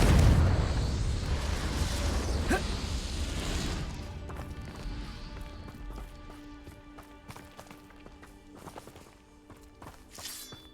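Confringo blasting spell explosion in Hogwarts Legacy, a loud rumbling blast with crackling debris that fades over several seconds into a tonal, humming ambience with faint clatter.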